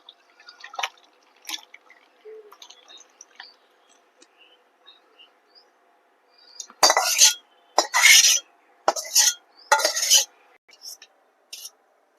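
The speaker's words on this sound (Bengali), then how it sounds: "এবার এটাকে আমি একটা গামলায় নামিয়ে নেব" Fish curry (rui fish cooked with potato) gets scooped from a pan into a bowl. A few faint metallic taps come first, then a run of loud, close scraping and clinking strokes of a utensil against metal.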